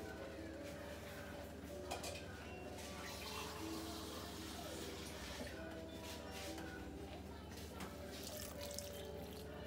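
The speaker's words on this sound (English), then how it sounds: "we're gonna go ahead and add a little bit more water" Water poured from a tap into a cooking pot holding garlic cloves for enchiladas de pollo, a soft steady running stream with faint dripping, quiet and continuous throughout.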